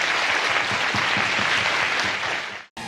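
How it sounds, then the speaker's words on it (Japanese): Dense, loud audience applause fills a talk-show hall at a university event with Roland and Meiji University students, holding steady before cutting off abruptly near the end. "会場を 彼に盛大な拍手を送ってあげてください。"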